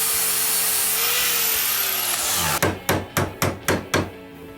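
A steady broadband rasp of cutting fills the first half, then six sharp, evenly spaced hammer-like knocks ring out close by.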